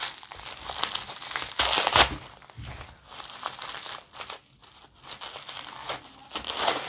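Strong tape is crinkled, peeled and torn off the wrapping of a glass bottle lamp, with repeated close crumpling and tearing bursts in an uneven rhythm and no talking.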